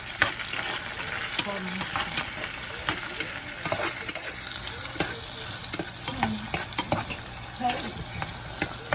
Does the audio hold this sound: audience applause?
no